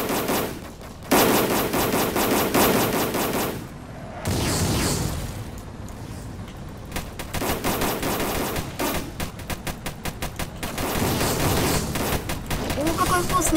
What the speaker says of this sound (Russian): я этой противовертолетной пушкой сбиваю вертолет